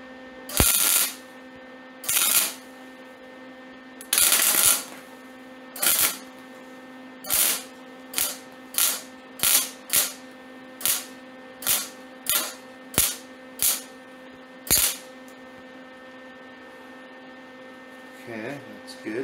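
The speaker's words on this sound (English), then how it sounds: "I'm going to weld a little bit from the back side too" MIG welding on a car body, a run of about fifteen short sharp bursts, spaced widely at first and then coming quicker and regular, each one loud and crackling over a constant electrical hum.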